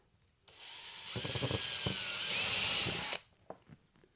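A high-pitched power drill whines for about three seconds, rising as it bites in while drilling a small pilot hole, then stops, followed by a few small clicks.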